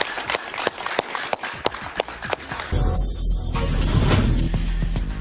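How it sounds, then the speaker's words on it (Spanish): Studio audience claps on a television talk show, distinct hand claps rising into fuller applause before an abrupt cut to a louder, denser mix of noise. "Un aplauso para él"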